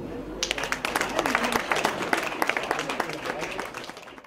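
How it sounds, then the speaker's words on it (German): Applause at a gathering for the blessing of a new fire engine, a smallish group clapping with distinct individual claps, swelling then fading toward the end. "ich denke erstmal einen kleinen Applaus"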